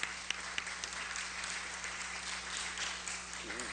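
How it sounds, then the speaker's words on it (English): A seated audience at a talk gives a round of applause, a fairly soft, steady wash of clapping with a few sharper claps and a voice briefly audible. "let's give him another round of applause."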